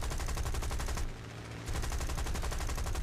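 Rapid, loud machine gun fire from a War Thunder aircraft hammers continuously, breaking off for about half a second partway through before resuming the relentless stream.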